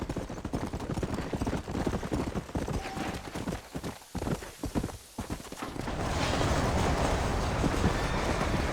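Horse hooves clip-clop at a steady trot in the Western video game Red Dead Redemption, rhythmic close hoofbeats that fade briefly and give way to a broader rushing ambience near the end.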